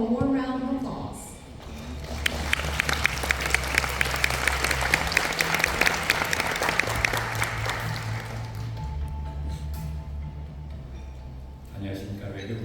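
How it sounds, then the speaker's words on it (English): Audience applause fills a forum hall at the 2026 East Asia Cooperation Forum, a dense, steady clapping that swells for several seconds and fades toward the end, with a low hum and faint voices around it. "A warm round of applause."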